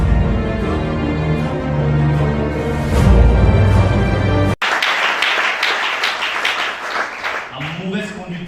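Applause breaks out from a congregation during a church service, preceded by sustained music and voices; after a brief cut the clapping comes thick and steady from many people nearby, with a voice speaking over its tail.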